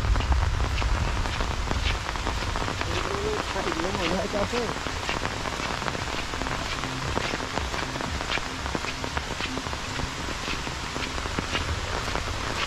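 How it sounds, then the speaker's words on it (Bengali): Rain falling in a rural Bengal village by a bamboo grove during the monsoon, a dense, continuous patter of drops on surfaces, steady and close, with a brief indistinct voice in the background. "তো বৃষ্টি পড়ার দৃশ্য আপনারা"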